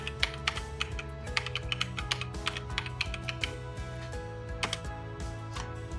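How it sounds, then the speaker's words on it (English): Someone types on a computer keyboard, producing irregular quick clicks and short flurries of keystrokes close to the microphone, with quiet pauses between bursts and no voice. "type in alohahsap.org"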